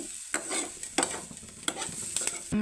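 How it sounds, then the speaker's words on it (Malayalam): Curry leaves go into a frying bitter gourd stir-fry, giving a steady light sizzle broken by several sharp crackling stirs and scrapes in the pan. "ലേശം കറിവേപ്പിലയും കൂടെ ഇട്ട് കൊടുത്തു"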